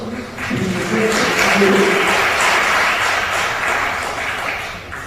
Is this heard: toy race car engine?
no